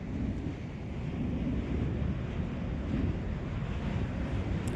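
Strong wind blows on a foggy morning, a steady, loud roar that buffets the microphone without a break and with no voices.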